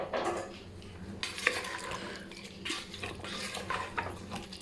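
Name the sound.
stirring mutton with onion, tomato, spices and water in a pot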